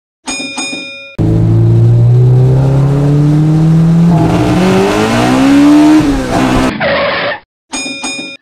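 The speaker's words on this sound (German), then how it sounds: "Oh, schau, da kommt der Bus schon." A toy bus arriving in a German LEGO City children's film, with a loud engine that rises and whirs for several seconds, then a brief squeal, with short musical tones at the start and end.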